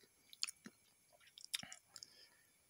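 Crunchy chewing of Bon Cabe Makaroni Krispi, a crispy spicy macaroni snack, heard close up as a few sharp, irregular bites and crackles against a quiet background.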